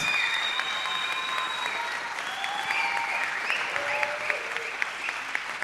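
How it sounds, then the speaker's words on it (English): A graduation audience applauds program staff at a masters ceremony, dense steady clapping from a large crowd that holds at an even level, with faint voices and whistles threaded through. "So please give them a round of applause."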